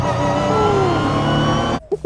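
A Ginetta race car roars along a track with a steady, loud engine note for almost two seconds, then the sound cuts off abruptly and a couple of short bumps follow.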